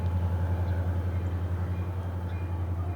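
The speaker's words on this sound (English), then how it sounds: "And here comes the train, Mount Zion." A train led by a green engine rolls past near Mount Zion with a steady low rumble and rhythmic wheel thumps, continuous and fairly close, without talk.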